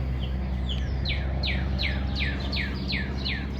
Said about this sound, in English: Birds are out chirping.